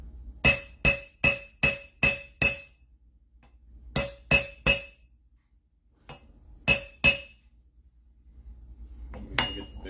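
Hammer blows on metal die material with no anvil underneath: a quick run of six sharp, ringing metallic strikes, a pause, three more, then two, and finally some faint shuffling.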